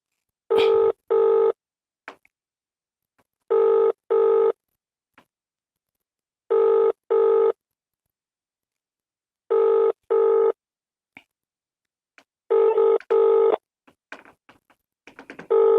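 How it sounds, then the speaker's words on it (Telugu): An unanswered phone call rings back in the earpiece, repeating a steady double-tone pattern at regular intervals over near silence, ending with a few faint clicks and handling noises. "రింగ్ అవుతుంది కానీ లేపుతలేదు"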